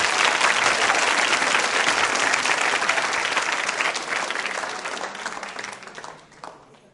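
Loud audience applause at a school quiz show, a thick sustained round of clapping from many hands that holds strong for several seconds, then tapers off and fades near the end.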